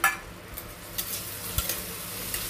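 Boiled eggs going into frying masala for egg do pyaza, with a soft steady sizzle and scattered scraping knocks of a spoon stirring against the pan, no voices.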